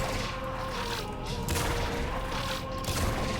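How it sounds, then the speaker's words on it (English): A bomb-firing bow in the video game Warframe, used by Ivara, lets off two booming blasts about a second apart over a dense, continuous clatter of combat noise. "So now Arna's bow shoots a bomb instead of a spread."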